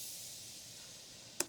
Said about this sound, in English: The last piece of this puzzle was just a more airy crash, more EDM crash, and that sounds like this.